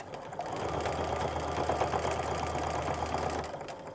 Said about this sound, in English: Now we're going to stitch this with a 1/4 inch seam